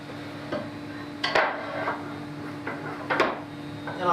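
Hammer taps on a metal pin being driven into a brace during furniture assembly, several sharp knocks spaced apart with a few softer clicks in between, close and fairly quiet.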